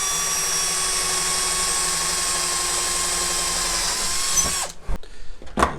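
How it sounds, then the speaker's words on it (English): Jigsaw cutting wood in a home workshop buzzes loudly and steadily for several seconds, then cuts off and winds down, followed by a few short clunks. "We'll just take our jigsaw"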